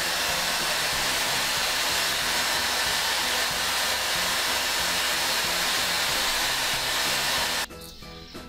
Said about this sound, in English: hair dryer is blowing at a speed, airspeed, that is fast enough that it is supporting the ping pong ball